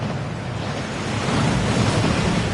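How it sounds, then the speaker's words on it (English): Waterfall in the Gringotts vaults of a Harry Potter video game, a steady broadband rushing roar of falling water that fills the whole stretch without a break, loud and close, with no voices over it. "That waterfall washes away all enchantments."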